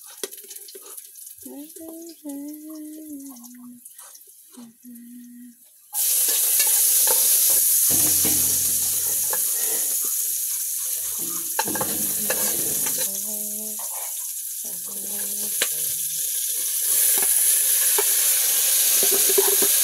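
Loud, steady sizzling of fish frying in a hot pan, starting abruptly after a quiet stretch with a voice speaking over it.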